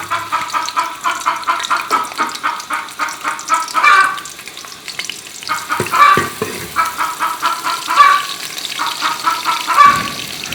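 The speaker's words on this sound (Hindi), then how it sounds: "इसमें हम कटे हुए प्याज डालेंगे" Chopped onions frying in hot ghee for sabz cholay, a steady close sizzle with rhythmic stirring scrapes throughout, no voices.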